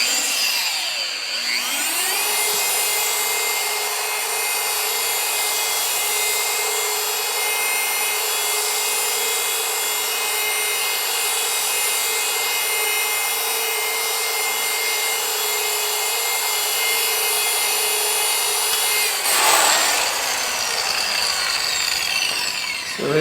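A rotary polisher runs at speed setting 4 on car paint, giving a steady, loud, continuous whine with a grinding rub for over twenty seconds, briefly shifting near the end.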